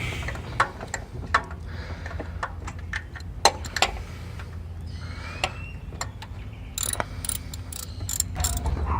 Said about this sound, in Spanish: con ayuda de una extensión de matraca será fácil sacarlo